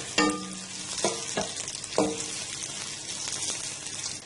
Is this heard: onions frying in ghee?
yes